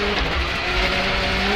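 Colin McRae's rally car roars close by under braking and acceleration through a corner, a loud, continuous engine and road noise with no break.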